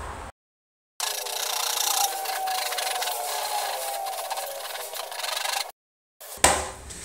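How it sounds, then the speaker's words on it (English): A wood rasp files and smooths the edges of a wooden pedalboard, giving a close, continuous rough scraping that runs for several seconds between short gaps of silence. "Edges with a rasp, wood rasp, and then just sand everything, sand the corners and the edges so it's nice and smooth."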